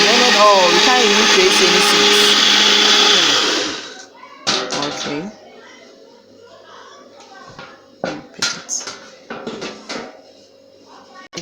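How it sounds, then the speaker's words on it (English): An electric blender whirs loudly and steadily as it blends garden eggs, then winds down and stops. Scattered knocks and handling clatter follow. "This blender is really a good blender."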